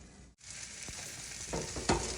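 Potatoes frying in a hot pan as soy sauce is poured in, a brief gap followed by a loud, sharp sizzle that swells and stays bright, with a quick stir near the end.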